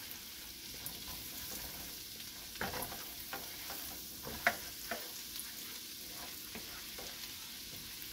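Garlic browning in oil in a pan, a continuous low sizzle broken by repeated scraping and clicking strokes of a stirring utensil, close and gentle, with no talking.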